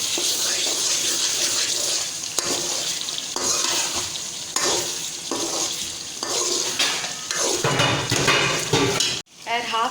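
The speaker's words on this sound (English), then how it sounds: "Add half cup of water." Water poured into minced meat (bhuna qeema) cooking with green chilies in a pan, a steady hiss and sizzle with stirring and utensil clatter throughout, close and loud, a brief drop near the end.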